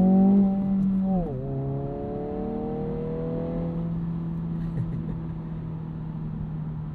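A 2022 Honda Civic Si's engine hums steadily while driving, with one quick dip in pitch as it shifts and then a smooth climb in revs. The sound is continuous and moderately loud, with no talk over it.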